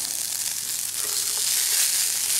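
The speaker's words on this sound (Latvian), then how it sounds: "Daram zirņus, dzirdam kā cūks uz karstās pannas." Soaked peas sizzle in a hot frying pan, giving a steady, bright hiss and crackle close up that holds evenly throughout with no speech over it.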